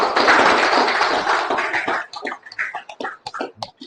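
Applause at a snooker championship prize distribution, a loud, dense burst of many clapping hands that thins after about two seconds into scattered, separate claps.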